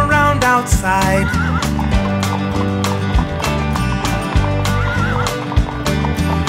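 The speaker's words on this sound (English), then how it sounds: "Farmer Joe has 18 horses. They gallop around outside." Horses neigh repeatedly and hooves clip-clop at a gallop, set close and loud over a bouncy music track in a children's farm song.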